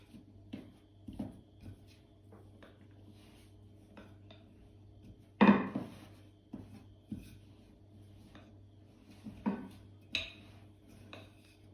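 Quiche dough is worked with a rolling pin in a quiet kitchen. Soft scattered rubbing and light knocks sound close, with one louder scrape near the middle and another near the end.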